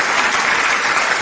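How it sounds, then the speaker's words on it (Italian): Studio audience applause at an Italian televised karaoke talent show, a steady dense clapping wash that fills the moment alone at full level without a break. "Un forte applauso."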